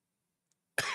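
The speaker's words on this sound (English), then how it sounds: "Still coughing." A single sharp cough erupts close to the microphone after near silence, loud and abrupt at the very end.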